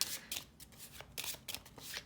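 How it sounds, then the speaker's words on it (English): A deck of tarot cards is shuffled in a series of quick, crisp riffling bursts with brief pauses between them, close and fairly quiet. "Give it a little shuffle, I suppose."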